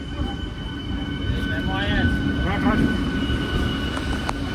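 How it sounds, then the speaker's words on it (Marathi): A train rumbles steadily nearby with a continuous low roar, while people talk briefly over it. "आली रेल्वे"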